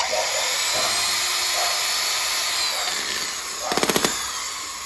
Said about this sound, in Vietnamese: Đó là chức năng khuôn búa anh em nha.